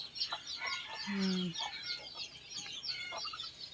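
Chickens and ducks jostle while feeding on a Lao farm, with busy overlapping clucks, chirps and pecking sounds. A short honk-like call stands out briefly in the middle, all at moderate volume with faint talk in the background.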